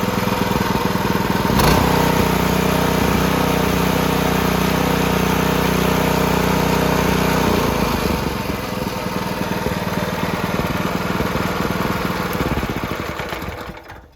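A small single-cylinder engine on a homemade cyclekart runs steadily at close range, a continuous buzzing drone with slight shifts in pitch, then cuts out at the end.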